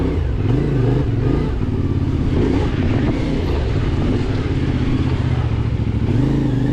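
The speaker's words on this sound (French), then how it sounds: "Ça passe quand même très bien avec une moto de 400 livres." A CFMOTO Ibex 450 motorcycle, about 400 pounds, rides an intermediate enduro trail, its engine loud and close with a steady rumbling drone and shifting revs throughout, mixed with clatter from the rough ground.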